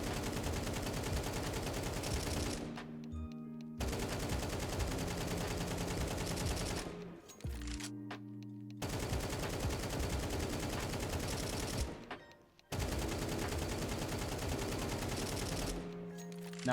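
AK rifle spray fire in Counter-Strike 2, four long sustained bursts of rapid automatic shots, each broken by a brief pause with reload and handling clicks, loud and close.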